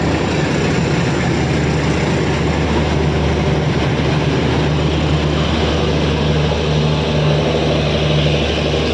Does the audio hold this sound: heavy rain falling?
no